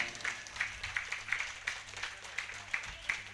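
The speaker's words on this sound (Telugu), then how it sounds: "ముందుగా మన ప్రీతమ గురువు బ్రహ్మర్షి పితామహ పత్రిజీ గారి గట్టిగా చప్పట్లు కొట్టుకుందాము" An audience applauds at a birthday celebration for a spiritual teacher, a modest steady patter of clapping that sounds somewhat distant and light.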